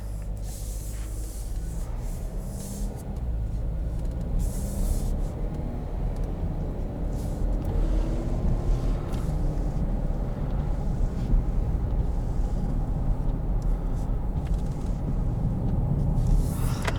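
A 2020 Chevrolet Blazer 2LT with a 2-liter engine cruising on the road, heard from inside as a steady low engine and tire rumble with wind noise, even and continuous throughout.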